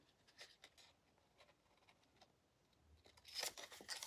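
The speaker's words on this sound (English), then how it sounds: "you just take your scissors and" Scissors snipping along the edges of a die-cut paper Christmas card, a few quiet close cuts early on, then a louder burst of crisp snips near the end.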